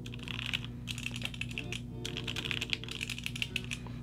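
Rapid clacky keystrokes on a Quarkeys Z67-YUN mechanical keyboard with a carbon fiber plate and JWK Alpaca switches, typed in quick bursts with brief pauses, close and fairly quiet.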